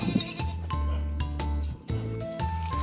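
Goats bleating loudly and close, several repeated cries in quick succession, with faint jingling in the background.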